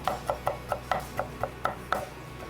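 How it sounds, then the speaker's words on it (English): Steady rhythmic chopping of garlic butter steak bites with a metal spatula on a Blackstone griddle, about eleven evenly spaced metallic clacks, close and clear with no talk. "I'm gonna chop them up a little bit."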